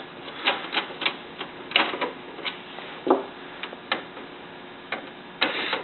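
Screws are removed from the back of an HP LaserJet P2035 printer, giving a series of close, irregular small clicks and ticks from a tool working on the plastic and metal casing, with no talking.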